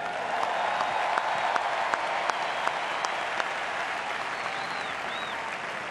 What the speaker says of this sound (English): Round of applause for our coaching staff.